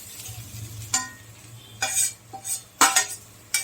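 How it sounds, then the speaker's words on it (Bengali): Cauliflower pieces go into a pan of spices already fried in a little oil and starting to stick, giving several sharp clattering, sizzling bursts and scrapes over a low steady hum, with no talking. "এই যে এখন ফুলকপিগুলো দিয়ে দেব,"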